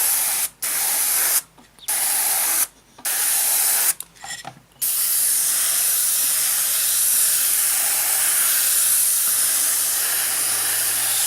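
An airbrush sprays base coat paint onto a 1/48 Hasegawa Messerschmitt Bf 109E-3 scale model, a close, loud hiss in several short bursts with brief gaps, then one long continuous spray.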